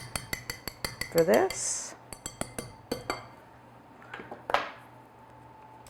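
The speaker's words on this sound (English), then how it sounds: "And I'm just going to stir that all together." A utensil stirring a crumb-cake crumb mixture of flour and sugar in a bowl, giving a quick run of sharp, close clinks against the bowl, then scattered taps, with a brief spoken remark near the end.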